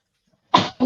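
A person sneezes twice in quick succession, close by, with a louder first burst and a shorter second one, in an otherwise quiet room.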